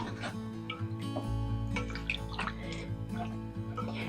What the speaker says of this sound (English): I'm going to take a little milk, about maybe a cup of milk.